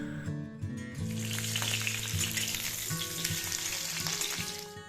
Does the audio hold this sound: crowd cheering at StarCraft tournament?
no